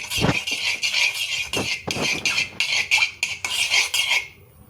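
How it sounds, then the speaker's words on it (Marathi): Cream being stirred in a pan for a chocolate ganache, with repeated scraping and clinking of a utensil against the pan in an uneven rhythm, close and fairly loud, with no talking. "आता पॅनमध्ये मी पहिल्यांदा क्रीम घालतीये. तिला आपलं ढवळायचंय"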